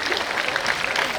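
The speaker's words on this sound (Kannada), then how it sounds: "ನೀವು ಒಂದು ಸತ ಜೋರು ಚಪ್ಪಾಳೆ ತಡ್ರಿ." Audience at a religious discourse applauding loudly, a dense steady clatter of many hands clapping throughout.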